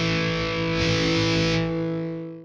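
Distorted electric guitar from a BOSS PX-1 Plugout FX pedal running a DS-1 distortion, with one sustained chord ringing out loud and saturated, its tone swelling briefly under expression-pedal control before decaying.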